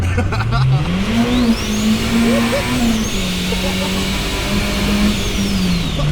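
A turbocharged B16-powered Triumph Acclaim accelerates hard, its engine rising through the revs with turbo whine, shifting gears and pulling again, loud and close from inside the car, with people talking over it.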